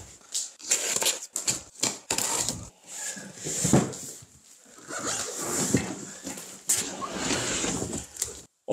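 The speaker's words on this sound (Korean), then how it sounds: "집에 칼이 없어 가지고 아이들이 사용하는 가위를 써볼게요" Children's scissors cutting open the cardboard box of a smart bike trainer, a series of quick crisp snips and scraping rustles at close range, alone without talk.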